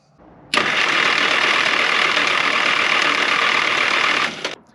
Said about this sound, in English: when the engine's cranking